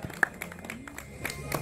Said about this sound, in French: Là aussi, des applaudissements pour le troisième de la soirée.